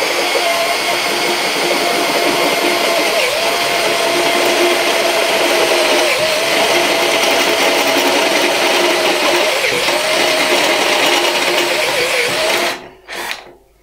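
A Makita HP457DWE cordless drill drives a reamer in a steady, loud, continuous whir with a slightly wavering pitch, then winds down abruptly near the end.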